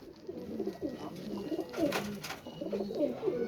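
A Sialkoti pigeon, a male, cooing close by in soft, repeated throaty rolls that rise and fall over a few seconds, with no talk.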